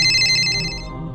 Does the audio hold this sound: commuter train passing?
no